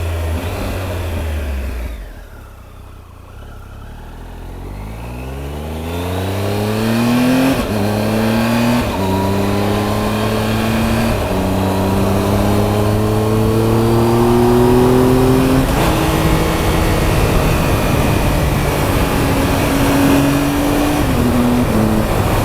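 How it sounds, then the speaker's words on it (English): A 2018 Triumph Tiger 1200 XRt motorcycle engine revs up repeatedly, its pitch climbing and dropping back at each quick clutchless gear change, loud and close, building steadily through a run of shifts. "What I'm doing is just going through the gears, man. We got clutchless shift assist."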